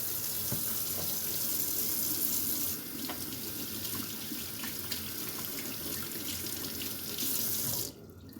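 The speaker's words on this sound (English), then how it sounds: "Let me wash my hands here real quick." Tap water runs steadily into a sink while hands are washed beneath it, a close, continuous hiss and splash that drops in level partway through and cuts off abruptly near the end.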